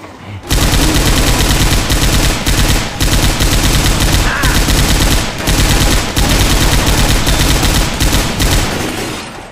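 Belt-fed machine gun in Left 4 Dead 2 blasting in long, loud, near-continuous bursts across the whole stretch, with only a few split-second gaps between strings of rapid shots.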